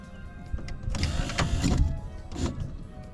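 The power window motor and regulator of a 2001 Ford F150 run in a short burst, giving a whirring, grinding mechanical buzz that swells and fades over a few seconds, quiet and close.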